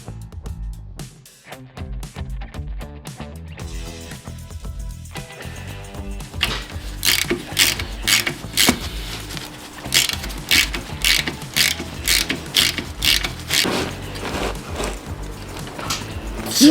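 A ratchet wrench cracks loose a shock absorber nut on an overland 4x4 build, giving steady, close mechanical clicking that turns into faster, sharper ratcheting strokes in the second half.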